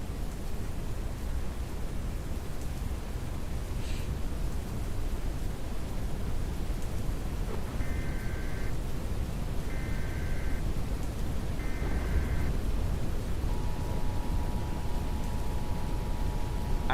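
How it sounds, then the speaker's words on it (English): Heavy rain during a storm in the Roblox game Twisted, a constant dense hiss that never lets up, with a few short electronic beeps and a longer tone heard later. "The rain is so thick."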